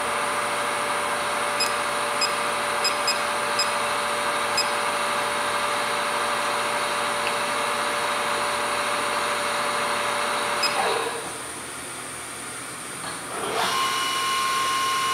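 A Haas VF3 CNC vertical machining center spindle running at 800 RPM gives a steady whining hum with a brief dip near the end before resuming, loud and continuous with no talk.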